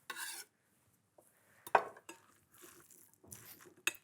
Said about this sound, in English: And a final mix through our couscous.